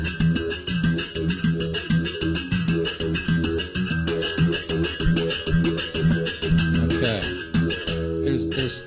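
A berimbau with a stone pressed against its string plays a steady rhythmic pattern of twangy, buzzing struck notes, close and clear, with no voices.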